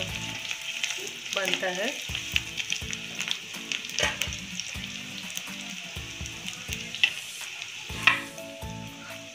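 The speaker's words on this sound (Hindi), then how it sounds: "लहसुन अच्छे से गोल्डन होने तक फ्राई करेंगे।" Garlic fries on high heat for paneer chilli, a steady hot sizzle with repeated scraping and clinking of a stirring spatula; a brief spoken phrase comes near the start.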